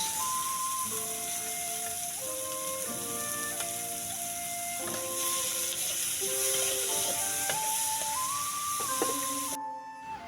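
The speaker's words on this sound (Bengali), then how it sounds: "গরম তেলের মধ্যে দিয়ে দিলাম পেঁয়াজ কুচি টমেটো কুচি এবং কাঁচামরিচ" Chopped onion, tomato and green chili sizzle steadily in hot oil for a village fish-and-radish fry, a constant frying hiss running beneath louder background music throughout.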